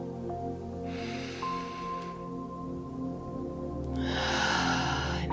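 Slow, deep breath drawn in and let out, soft and close, with a gentle hum of background music underneath.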